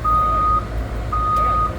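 Reversing beeper on a truck backing up at a railway derailment site: two loud, sustained electronic tones separated by a short gap, over a rumbling diesel engine.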